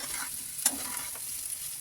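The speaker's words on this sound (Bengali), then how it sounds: "আলুটা আমার ভাজা ভাজা হয়ে এসছে" Soft, steady sizzle of potatoes frying in a pan, with one brief clink or scrape of stirring.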